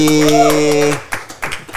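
A short voice gives way to a handful of quick, sharp hand claps in an indoor football talk show setting, close and uneven in rhythm.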